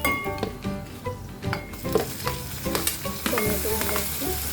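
Tomatoes drop into a pan of spiced potato and fenugreek, then fry with a busy sizzle while a utensil stirs and knocks against the pan in quick, uneven strokes.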